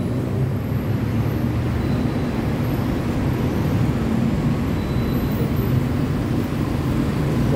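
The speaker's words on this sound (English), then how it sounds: "And then up there is a train, Tana train station." Steady heavy roar of the BTS Skytrain near Nana station on Sukhumvit in Bangkok, a dense rumbling rush blended with street traffic noise, loud and continuous with no pauses.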